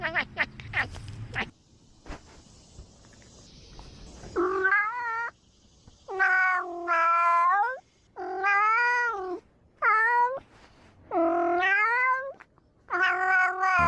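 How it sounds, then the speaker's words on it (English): A cat lets out a series of long, loud, drawn-out meows and yowls, close up, with short silences between the calls. "Why is he meowing like that?"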